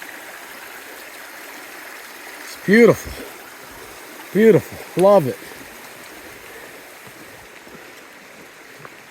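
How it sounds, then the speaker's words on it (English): River flowing at a trail crossing on the Appalachian Trail, a steady soft rush of water running throughout at moderate distance, with someone speaking briefly three times over it. "Got a little river crossing here."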